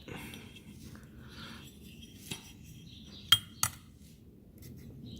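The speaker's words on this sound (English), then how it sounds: "Placing the pan on and off again to see if it zeros, and it does." A scale pan set onto and lifted off a Hornady G2 1500 digital powder scale gives a few sharp, close metallic clinks, one faint knock then two clear clacks a moment apart, over a quiet room.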